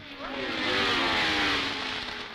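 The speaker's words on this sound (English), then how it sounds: "Graham Hill's new Embassy Shadow rounding Beckett" A 1970s Formula One car, Graham Hill's Embassy Shadow, roars past at a British circuit, its high-pitched engine rising and falling in pitch as it sweeps through the corner, loud and close.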